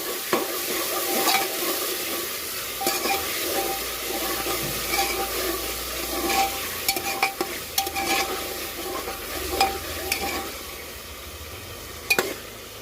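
Potatoes with ginger-garlic paste sizzle in a hot pan while a spoon scrapes and stirs them, with irregular clinks and scrapes over the steady frying hiss.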